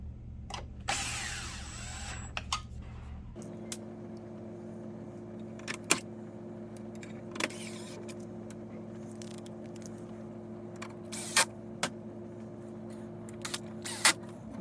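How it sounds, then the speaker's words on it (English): Screws are driven back into the chassis of a JVC DLA-RS57U LCoS projector under repair, a short whirring burst of a driver followed by scattered faint clicks and taps of parts and tools in a quiet room. "Let's get some of these screws back in."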